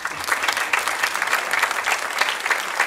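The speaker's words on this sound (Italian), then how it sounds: "Quindi un applauso" An audience at an outdoor painting competition awards ceremony claps steadily, a dense, even round of applause at moderate distance with no voices over it.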